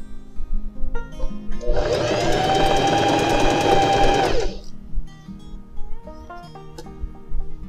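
Sewing machine stitching the side seam of a pair of jeans, a loud, steady run of about three seconds with quieter clicks and handling sounds before and after.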